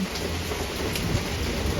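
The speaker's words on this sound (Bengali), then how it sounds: "ঝমঝম ঝমঝম করে বৃষ্টি পড়ছে" Heavy rain pours down in Montreal, Canada, with wind, a dense, continuous hiss with no pauses, close and loud.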